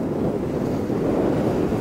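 Rough, wintry Sea of Japan surf along the Hokkaido coast rumbles steadily, a dense wash of crashing waves mixed with heavy wind buffeting, loud and continuous with no voices.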